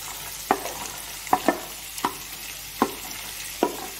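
Carrots and beans are stir-fried in a pan for veg fried rice: five or so crisp spatula scrapes and tosses land at a steady pace over a low, constant sizzle.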